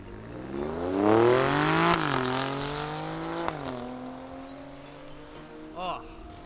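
A loud car engine revs up in the morning, its pitch climbing to a roaring peak, then dropping and settling into a lower, steady rumble that slowly fades, with a brief sharp sound near the end.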